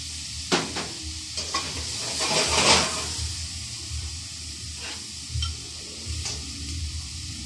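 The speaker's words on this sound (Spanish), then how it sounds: "Bajamos un poquito el fuego, le agregamos un toque de ajo ahí mismo" Garlic sizzles in a hot pan on a lowered flame, a steady frying hiss broken by a few sharp utensil taps and stirring scrapes.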